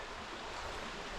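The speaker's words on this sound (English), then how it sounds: "That's the creek." A fairly large creek flows below an old road bridge, heard as a faint, steady rushing wash with no other sounds.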